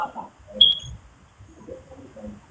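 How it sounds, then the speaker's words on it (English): A smoke detector gives a single short, high electronic chirp between stretches of muffled talking, then the voices carry on. "Not only is he janky, he can't even change his smoke detector."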